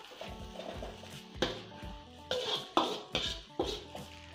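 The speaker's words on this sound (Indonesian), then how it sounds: "selanjutnya kita aduk lagi dengan semua bumbunya" A metal spatula scrapes and clanks against a pan while fried rice is tossed with its seasonings, giving several distinct knocks at uneven intervals over a soft background hum.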